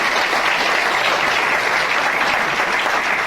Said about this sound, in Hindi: एक बार जोरदार ताली आप अपने यूनिवर्सिटी के लिए बजाएं